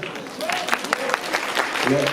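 Audience applauding students at a spring poetry event in Vence: a short burst of dense clapping from a crowd, mixed with a voice speaking over it.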